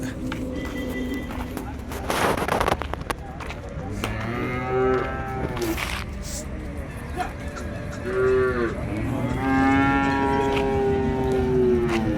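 Cattle at the Vaniyambadi cattle market, several loud drawn-out moos from nearby animals amid crowd murmur and people talking.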